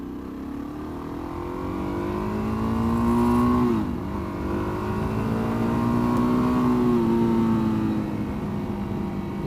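A Suzuki DRZ dual-sport motorcycle engine drones steadily while riding through Texas countryside, pitch dipping briefly as the throttle eases and then climbing again, close and continuous with wind rush and no talking.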